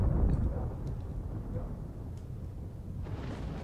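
Radioactive explosions in the video game STALKER: a deep, rolling low rumble like distant thunder, heaviest at the start and then lingering as a sustained muffled boom.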